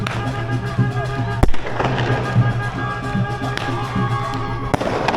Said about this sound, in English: they're setting off fireworks in the street